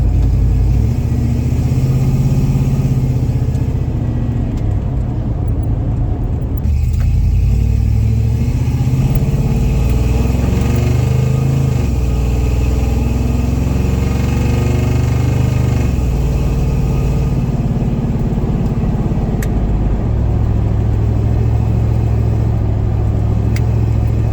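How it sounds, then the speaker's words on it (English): Engine of a hot rod 4x4 in normal driving: a loud, steady, low rumble heard from inside the vehicle, with gentle rises and falls in revs and no talking. "Right now, just normal driving and doing wonderfully"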